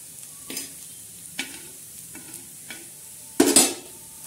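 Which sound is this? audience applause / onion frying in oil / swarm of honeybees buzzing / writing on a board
onion frying in oil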